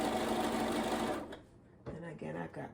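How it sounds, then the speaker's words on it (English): A sewing machine runs steadily and close for about a second while stitching the final row of a pumpkin-pattern quilt, then falls quiet as a person starts talking. "So I'm going to sew the very last row on."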